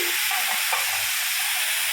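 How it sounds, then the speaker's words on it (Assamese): Vegetables frying in a pan with a steady broadband sizzle, stirred with occasional scrapes and clinks of the utensil, close and continuous with no voices. "অকণমান লৰাই দিলোঁ, নহ'লে লাগি ধৰিব।"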